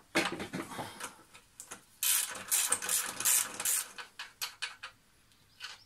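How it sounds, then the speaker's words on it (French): Axle nut being loosened and removed from the wheel of a Yamaha XV 500 motorcycle, heard as close, irregular metallic ratcheting and clicking bursts with short pauses between turns. "On retire ensuite l'écrou qui retient l'axe de roue"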